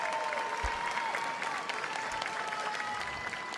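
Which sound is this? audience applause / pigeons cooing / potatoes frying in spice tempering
audience applause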